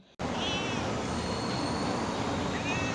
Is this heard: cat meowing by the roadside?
yes